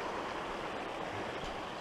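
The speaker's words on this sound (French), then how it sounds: "je quitte cette belle petite rivière qui était là dans le fond" Small river flowing through a Belgian nature area near Botrange, a steady broadband rush of moving water, continuous and fairly soft with no voices.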